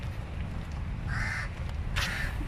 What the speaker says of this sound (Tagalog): May narinig ba kayong uwak?